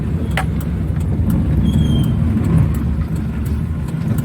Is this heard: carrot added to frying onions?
no